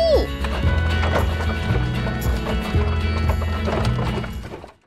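Hooves of a horse-drawn carriage clip-clop steadily in a close, even rhythm under dense music and busy background sound, with a brief whinny-like cry at the start.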